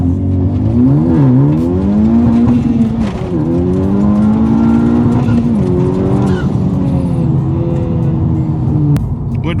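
Honda Civic Type R launching hard from a stop, a loud close engine surging through revs with pitch climbing and dropping at each gear shift across the whole stretch.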